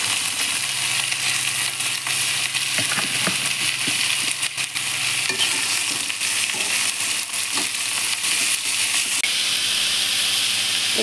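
Garlic and whole chillies fry in hot oil for a plantain curry, a steady dense sizzle and crackle throughout with occasional stirring clinks, close and loud with no talking.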